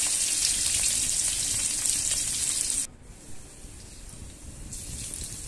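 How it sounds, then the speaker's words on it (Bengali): Chopped onion goes into hot oil with green chillies and black cumin, giving a loud, bright sizzle for about three seconds. The sizzle then drops sharply to a quieter crackle and rises a little again at the end. "আমি ওপর থেকে পেঁয়াজ কুচিটা দিয়ে ভাজবো ভালো করে"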